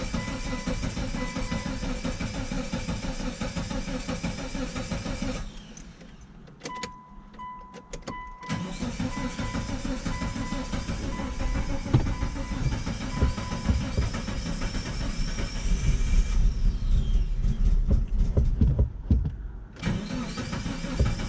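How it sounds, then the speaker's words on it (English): A third-generation SUV's engine cranks, catches and settles into a steady running drone. It dips briefly partway through, then revs back up and holds a loud, close idle. "Start it up and see what it sounds like."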